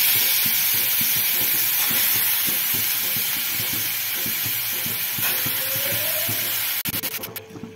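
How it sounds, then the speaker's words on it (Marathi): Moth beans dropped into a hot pan crackle and sizzle in a steady dense hiss with faint rhythmic scraping, ending in a few sharper clatters near the close. "ह्याच्यामध्ये मी मटकी टाकून घेते"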